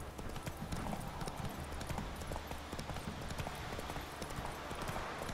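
Horse hooves pound in a rapid, rolling gallop rhythm while riding cross-country in the video game The Witcher 3, loud and continuous with a faint voice underneath.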